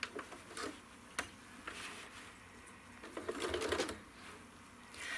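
A sewing machine stitches a quilt with pink thread, its needle giving quick faint ticking runs with short pauses between bursts, close by and without talk.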